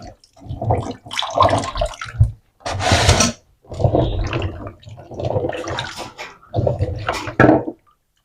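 Dirty palm fruit being washed by hand in water at home for making palm oil, with bursts of sloshing and splashing that come and go in several separate rounds, fairly loud and close, with no talking.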